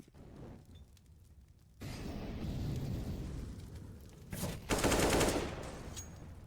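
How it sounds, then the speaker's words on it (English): Counter-Strike match gunfire, quiet at first, then bursts of rapid shots and a louder spray of fire in the second half. "That is a nice one-tap from Sineri"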